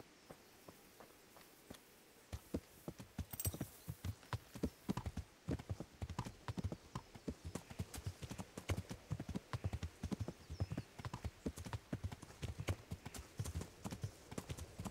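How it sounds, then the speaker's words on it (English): Horse hooves clip-clop steadily at a walking pace on a path in the medieval game Kingdom Come: Deliverance, a continuous rhythmic train of hoofbeats at moderate distance after a brief quiet opening. "Stupid horse."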